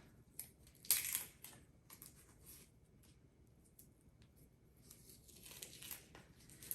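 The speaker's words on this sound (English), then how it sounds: "we have to peel the onion first" Fingernails peeling the papery skin off an onion, producing soft crackling and tearing rustles with one louder crinkle early on, close and faint.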